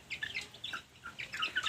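Backyard chickens and young chicks cluck and chirp in short, overlapping bursts, fairly close, with no talk.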